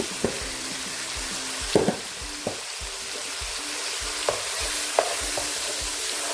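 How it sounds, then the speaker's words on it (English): A pot of egusi soup with beef, salt, all-purpose seasoning and ginger powder being stirred, a spoon scraping and knocking against the pot several times over a steady low sizzle, with no talking. "Stir everything."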